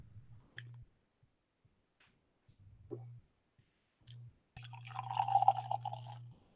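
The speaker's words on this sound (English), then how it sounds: "That was the best pour sound I've ever heard." Beer poured from a very full can, a fizzy liquid rush with bubbling and gurgling that swells over the last two seconds, after a few faint drips and clicks.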